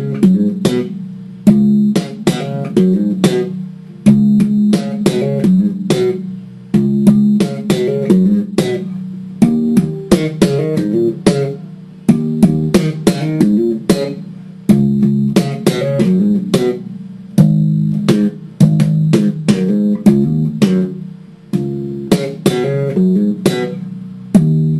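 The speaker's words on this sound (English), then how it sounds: "first what I do is I slap the root, I pop the octave, I pop a flatted 7, and I hammer on the octave." Electric bass slap riff with slapped root, popped octave and flat seventh plus hammer-ons, repeating in punchy, percussive phrases played alone and close for about twenty-five seconds.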